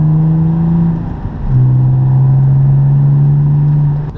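A BMW E39 523i with the M52TU inline-six, tuned exhaust, headers and 200-cell catalytic converters, holds a loud rev, dips briefly, then sustains a strong droning high-rpm note close by, with no voices.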